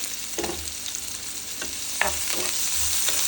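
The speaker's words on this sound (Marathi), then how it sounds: "घालूयात आपण बारीक चिरलेला कांदा कांदा परतून घेऊ तेलामध्ये" Finely chopped onion sizzles in hot oil while being stirred, giving a steady, close frying hiss broken by a few soft scraping stirs, with no talking.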